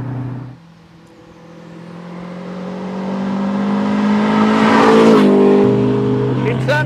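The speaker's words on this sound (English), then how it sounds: "So for a turbo, you have to rev it." A Renault 5 Turbo 1 engine revs steadily, its note climbing gradually to a loud peak, dropping briefly, then rising again; a voice talks over the engine at the start.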